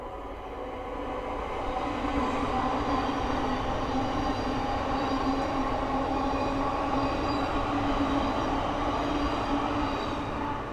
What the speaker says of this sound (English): the next train to pass by is a Thameslink 700 from Sutton to Luton